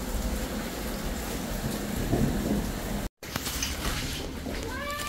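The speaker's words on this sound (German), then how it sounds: "Nur weil es nicht mehr so stark regnet," Steady rain during a thunderstorm, a dense broadband hiss that runs throughout with one brief dropout near the middle; no one speaks.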